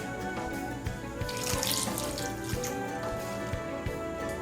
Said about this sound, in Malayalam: അപ്പോൾ നമുക്ക് കുറച്ചുകൂടി വെള്ളം ഒഴിച്ചു കൊടുക്കാം.